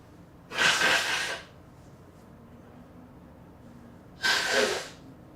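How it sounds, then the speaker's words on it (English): Someone blows their nose twice, each a loud, close, breathy blast lasting about a second, separated by a few seconds of quiet room tone. "I gotta blow my nose"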